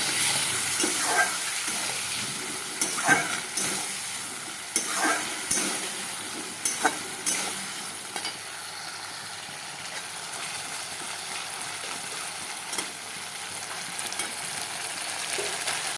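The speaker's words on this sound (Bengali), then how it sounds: "এখন একটু সামান্য একটু জল দিয়ে দেবো, জল দিয়ে তারপরে একটু মশলাটা কষাবো।" Spice paste fries in oil with a splash of water, a steady sizzling hiss broken by intermittent scraping stirs and clinks for the first half, then simmering on more quietly.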